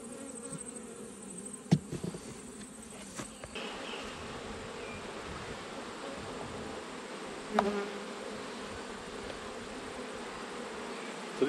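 Honeybees buzz steadily around an open, weak hive in autumn, a close continuous drone with a few sharp clicks and knocks from handling the hive parts.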